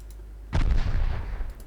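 A warship takes a shell hit in the naval combat game Ultimate Admiral Dreadnoughts: a sudden loud, close impact boom that rumbles and decays over about a second, after quiet, with no talking.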